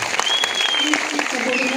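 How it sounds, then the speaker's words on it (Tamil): Cinema audience at a Broadway Cinemas screening in Coimbatore applauding steadily throughout, a dense clatter of many hands clapping at once, with a voice speaking over the crowd. "உங்க கையில இருந்து இந்த கைத்தட்டல் வரும்போதுதான்"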